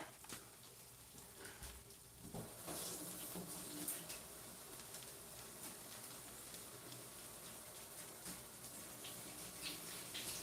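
Tap water runs steadily into a kitchen sink while something is rinsed, a continuous broadband hiss with faint splashes and clatter, moderately quiet and close, with no talking.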